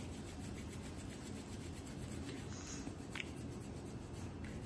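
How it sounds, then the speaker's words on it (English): Hand rub being worked between the hands at a bedside during hand hygiene, a steady continuous close rubbing hiss with no talk over it. "So I will do the hand rub."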